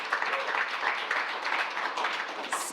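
Audience applause at a Human Rights Day event for older people, a moderate, continuous patter of clapping from a modest crowd, fairly distant and even, with a brief brighter swell near the end.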